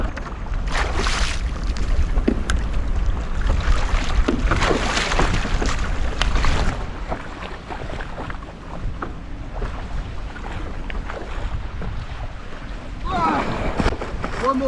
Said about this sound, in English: Well, let's have a go at paddleboarding, shall we?